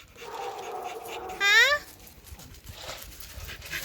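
A little dog back from doggy daycare pants softly close by, with a brief high whimpering whine in the middle and a short word spoken over it.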